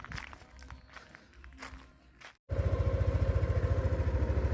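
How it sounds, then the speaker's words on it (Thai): A motorcycle sets off on a ride: soft footsteps and shuffling first, then after a brief cut a loud, close engine takes over with a steady, fast pulsing rumble. "อ่ะตอนนี้กำลังขี่รถออกไปหาหมูเนาะ"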